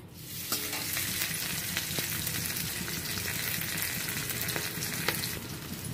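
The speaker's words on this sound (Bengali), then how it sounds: "এগুলো ভালো করে একটু ভেজে নেব," Steady, close sizzling of pumpkin and potato pieces frying in mustard oil in a wok, with occasional light stirring clicks. No one speaks over it.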